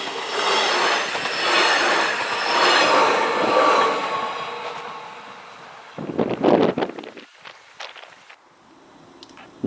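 A Rhaetian Railway electric multiple unit, a 4-car set serving the Chur area, rumbles past close by with steady rolling and wheel noise, then gives way to sharper clanks and squeals as the last cars clear.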